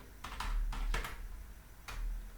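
Clicks from a computer keyboard while typing a terminal install command on Ubuntu: a few quick bursts of keystrokes, close and fairly quiet, with pauses between them and no voices.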